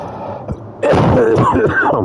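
A single throaty cough or throat clearing near the start, followed by a person speaking close up.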